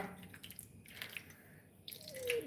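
Buttermilk is poured into a bowl of rice gruel (kanji), giving a soft, close liquid splash and trickle that lasts a couple of seconds, with a brief thin squeak near the end and no talk.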